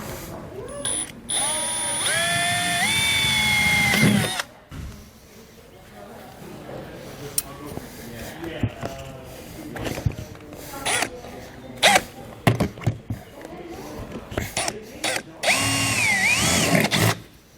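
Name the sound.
power drill drilling out metal flange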